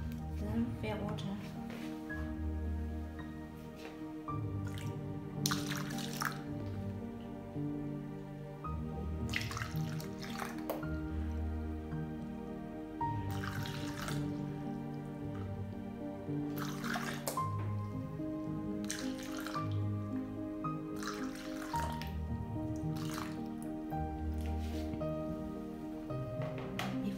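Water trickles and drips through a funnel into a portable Picocare picosecond laser machine, faint and intermittent, with a voice and other faint sounds in the background.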